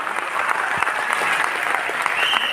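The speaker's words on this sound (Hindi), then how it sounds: "जोरदार ताली होना चाहिए आप सभी के लिए।" Steady audience applause at a motivational home-meeting gathering, dense continuous clapping from a crowd that fills the whole stretch at even loudness, with no voices standing out.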